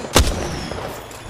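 A grenade explodes in a multiplayer shooter game, a single sharp boom near the start that quickly decays into a low rumble and quieter game ambience.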